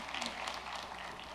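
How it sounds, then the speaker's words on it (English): An audience applauds an academic bowl team, the Vineland Jeopardizers, at a school quiz competition with a brief, faint, distant wash of clapping and no speech over it. "Big round of applause."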